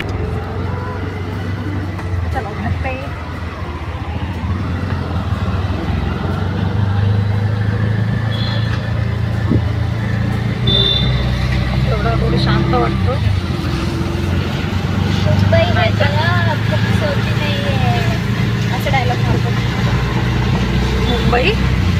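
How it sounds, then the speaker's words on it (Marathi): An auto rickshaw rides through Mumbai at night. Its small engine chugs and drones steadily close by, growing louder as it picks up speed, while people talk over the noise and traffic sounds pass. "नशीब रिक्षा भेटली आम्हाला लवकर. आता आम्ही चाललो घरी."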